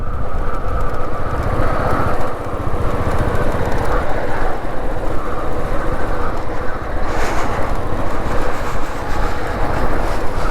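Heavy military convoy vehicles roll along a high mountain road on the Hanle to Sarchu route, a loud continuous engine and tyre rumble with strong wind noise throughout and no clear speech.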